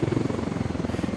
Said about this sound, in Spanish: vamos a aterrizar el helicóptero aquí.